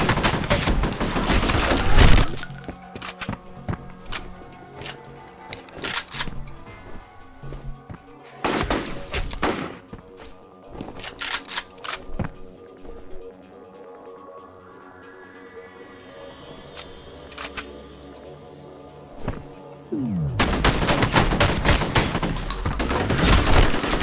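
Gunfire in the shooter game F.E.A.R., with bursts of loud shotgun-like blasts at the start, in scattered volleys through the middle and again heavily at the end, over game music and ambience.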